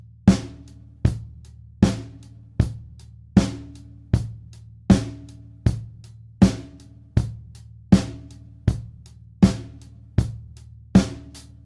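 A drum kit plays a steady four-on-the-floor rock groove, with a kick drum on every beat under evenly spaced stick hits, repeating cleanly and evenly for the whole stretch with no talking.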